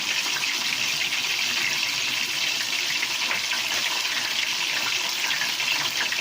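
Soy sauce pouring into a crock pot for pot roast, a continuous steady liquid stream splashing close up for several seconds with no talk.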